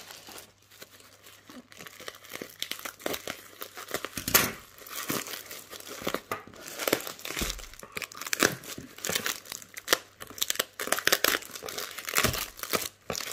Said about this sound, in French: Il y avait du papier bulle et tout.